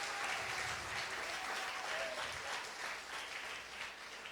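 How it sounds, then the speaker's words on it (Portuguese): A church congregation claps together in dense, continuous applause for the Lord, a full, close wash of hands with no break. "Dê uma salva de palmas ao Senhor"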